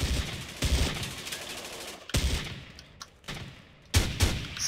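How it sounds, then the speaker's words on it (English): Bursts of automatic gunfire from a tactical shooter video game, loud and close, in several volleys separated by short gaps, with no talking. "He didn't turn around and suppress the area where the gunshot came from."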